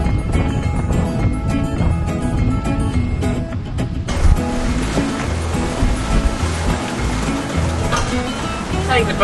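Ocean waves crash and rush around a sailboat at sea during a Pacific crossing, a loud, churning wash of water and wind that surges sharply partway through, with occasional voices underneath.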